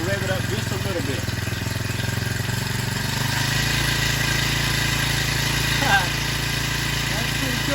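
A new Hankai 4 hp four-stroke outboard motor runs at a steady idle, then is revved slightly, its even putter close and loud throughout, with someone speaking over it.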